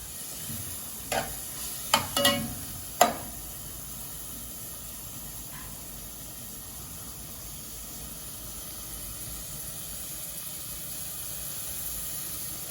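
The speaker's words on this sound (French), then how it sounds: "Puis on va rajouter l'échalote et le persil. Voilà, et on laisse cuire." Shallot and parsley cook in a pan for ham croquettes, a faint steady sizzle with a few clinks and scrapes of a utensil early on, then an even hiss alone.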